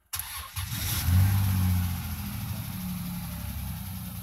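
A 2001 Dodge Intrepid with a swapped-in 3.5 engine starts and runs, a steady mid-pitched idle after a brief rise, with a faint rapid clacking under the engine hum; no talking.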